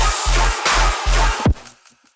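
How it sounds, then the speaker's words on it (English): Heavy dubstep main bass synth, loud and deep, played as three chopped sustained hits with short gaps, ending in a downward pitch drop and a quick fade to near silence, no voice. "This first one is my main bass that I have in my original section."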